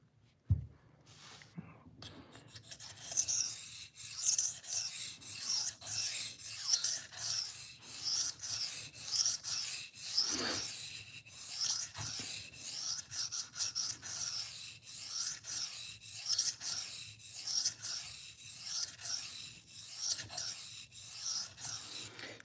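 A pocket knife blade being sharpened on a 1000 grit whetstone, giving rhythmic rasping strokes back and forth, close and fairly quiet, repeating steadily after a brief knock at the start.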